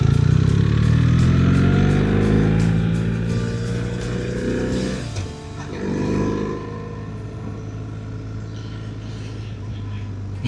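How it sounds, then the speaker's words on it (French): A motorcycle with a clanking gearbox is ridden home from work on a December evening, its engine roaring loud and close, shifting pitch as it revs, then easing off to a quieter rolling drone. "La boîte qui claque et le bruit infernal du moteur."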